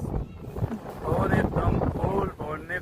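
Strong, icy wind buffets the microphone at the hilltop Sabli Mahakali temple as a steady rumbling roar under a person's continuous talking.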